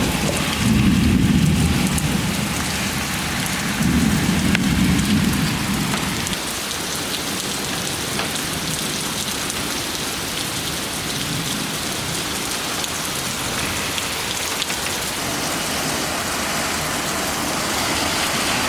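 Heavy rain pours steadily during a severe thunderstorm in New Jersey, a loud unbroken hiss throughout, with deep rumbling thunder rolling underneath early on before easing into constant downpour.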